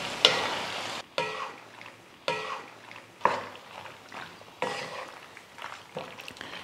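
Boiled pasta for a chicken popcorn pasta is mixed in a pan over a low flame: a series of separate scraping, clattering stir strokes, roughly one each second, each fading into a quieter gap, near and clear with no speech.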